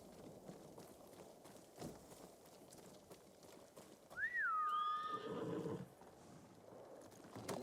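A horse in the video game Ghost of Tsushima gives a single rising, wavering whinny midway through, loud and close over a low rumbling in-game backdrop with soft hoofbeats.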